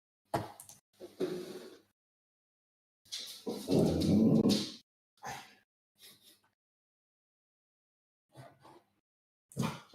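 Indoors, a dog makes short bursts of whimpering and huffing sounds, with one longer louder whine mid-way, separated by silent gaps.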